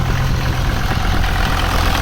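A 1975 Mercedes-Benz 300D diesel engine idles with a dense, continuous, loud rumble, close up and steady for about two seconds with no talking.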